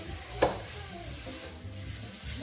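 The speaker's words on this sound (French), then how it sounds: "vous faites revenir tranquille là" Ham and garlic sizzle gently in a pan on low heat, a soft steady frying hiss with one brief utensil tap near the start, close and quiet.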